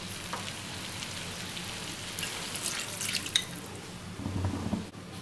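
Water goes into a pan of frying jackfruit and potato curry with prawns, about two bowlfuls, setting off a loud hiss and bubbling sizzle that rises and churns, with some stirring noise near the end.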